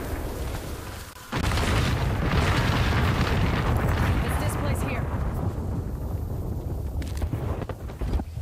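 An artillery strike in Apex Legends lands as a sudden loud barrage of overlapping explosions, a sustained rumbling roar that slowly thins out, with voices talking underneath.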